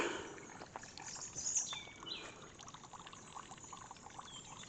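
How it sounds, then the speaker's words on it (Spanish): Water trickles steadily from a spring fountain, Font d'en Bussé, beside a natural area in the Gavarres hills, a faint continuous babble with soft outdoor ambience. "Y justo al lado, la Font d'en Bussé"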